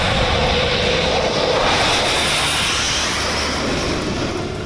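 Indian Air Force fighter jets such as the Rafale, MiG and Jaguar at an airstrip in Shahjahanpur, heard as a loud, steady broadband jet roar that fills the whole stretch and eases slightly toward the end.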